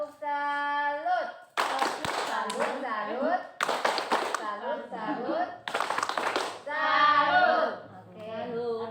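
A group of women in a stunting-prevention session gives a rhythmic patterned clap, several bursts of hand claps in time, mixed with loud voices chanting along.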